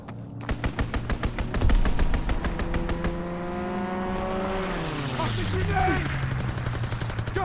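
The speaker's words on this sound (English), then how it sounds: "Strafing run inbound." Aircraft strafing run in Call of Duty WWII: a rapid burst of machine-gun fire rattles for about three seconds, then an engine roar swells and sweeps past with a falling pitch, loud and close.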